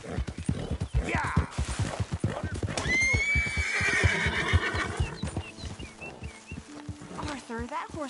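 A horse in the video game Red Dead Redemption 2 gives a loud, drawn-out whinny midway through, with steady clip-clopping hooves throughout and a short snort near the end, while voices talk over it.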